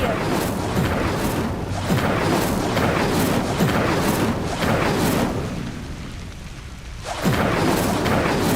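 In Hogwarts Legacy, an Incendio fire spell lights a pyre with deep rumbling booms and roaring whooshes of flame in repeated waves. A brief lull comes before another burst, and the game's sound fills the background.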